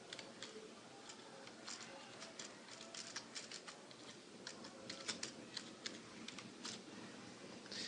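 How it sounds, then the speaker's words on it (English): Rapid, irregular keystrokes on a computer keyboard while entering text in AutoCAD, close and fairly quiet clicks pattering in short bursts with no talk. "now I can type in my text"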